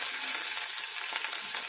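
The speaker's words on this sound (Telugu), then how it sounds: "కొంచెం కరివేపాకు వేయాలి" Curry leaves hit hot oil for a tempering of chalane perugu charu and sizzle, giving a loud, steady, close frying hiss with small crackles throughout and no voices.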